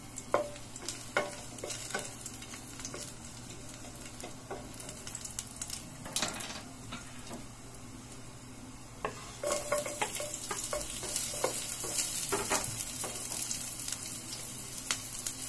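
Sardines sautéing with Malabar spinach in a pan. A soft sizzle runs under occasional stirring scrapes and clinks, with a faint steady background hum and no talking.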